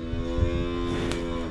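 A white cow on a farm in Japan lets out a single sustained, close moo with a steady harmonic drone lasting the whole moment, no talk.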